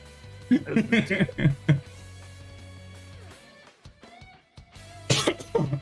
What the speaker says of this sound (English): Had a whole coughing fit.